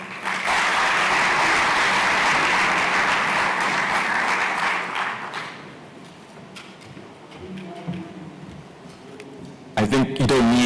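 Audience applause at a national science and technology exhibition awards ceremony, loud and dense for about five seconds before fading into scattered claps and room murmur, with a voice briefly starting near the end.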